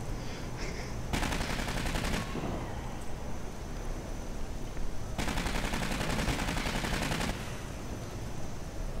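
An automatic sentry turret in the Aliens: Colonial Marines video game fires two sustained rapid bursts of gunfire, each lasting about two seconds, over a constant loud background of game ambience.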